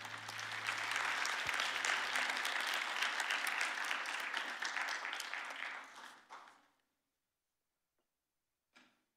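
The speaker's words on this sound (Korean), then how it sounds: "우리 큰 박수로 모시겠습니다" Applause from a church youth winter worship camp audience, a dense sustained clapping that fills several seconds, then thins out and stops, followed by silence and one brief faint clatter at the end.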